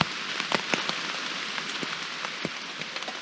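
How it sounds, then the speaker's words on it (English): Steady rain pattering on a backpacking tent in the woods along the Old Loggers Path, a dense even hiss of drops with scattered louder individual taps, close and continuous, no voices. "Not raining as heavy. Still raining."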